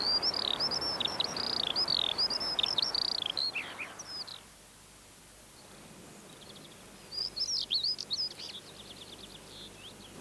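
Skylark singing in British countryside, a rapid run of high warbling, trilling notes that pauses for a couple of seconds and then resumes, fairly close and clear over a soft background hiss.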